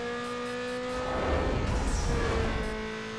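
A race car in Need for Speed: Underground 2 is held at full throttle, its engine droning loud and steady with a strained high-pitched whine, swelling slightly as it pushes on.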